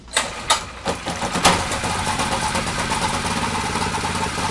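A small gasoline engine running to power a PC, a few sputtering catches before it settles into a steady, loud, continuous rumble close by.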